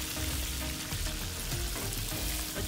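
Chicken pieces fry in a pan for Kashmiri chicken masala, giving a steady, close, dense sizzle with soft crackling throughout and no voices.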